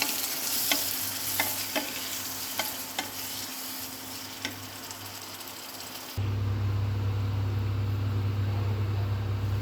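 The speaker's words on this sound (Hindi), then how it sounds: "अब इसका चिकन का मसाला बिल्कुल गल भी गया और भुन भी गया है" Chicken masala with onion, chili and turmeric paste fries in a pan, a steady close sizzle with several sharp scraping clicks of a spoon stirring, then a louder, denser hiss takes over partway through. No one speaks.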